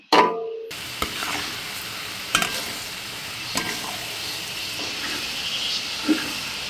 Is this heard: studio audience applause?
no